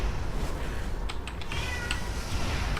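A pet cat gives a few faint, short meows over a constant hum of background noise in a room where someone is playing a game.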